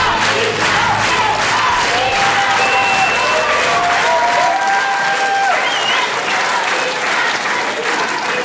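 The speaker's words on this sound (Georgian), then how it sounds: "აპლოდისმენტები მარიამს." A television studio audience applauds loudly and continuously, dense clapping filling the whole stretch with some cheering and whistling mixed in.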